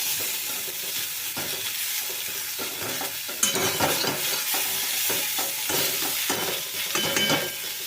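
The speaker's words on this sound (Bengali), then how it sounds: "এখন কিন্তু রান্নাটা আমি লো ফ্লেমে করছি এটাকেও একটুখানি নাড়াচাড়া করে সাঁতলিয়ে নেব" Sliced drumstick vegetables sauté gently in a wok over a low flame, with a steady soft sizzle and regular scraping stirs of a spatula throughout.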